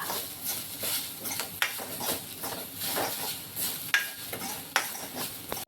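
Chana masala spices dry-roasting in a pan, stirred so the utensil taps and scrapes the metal at irregular intervals over a constant dry rustling hiss, fairly close, with no talk.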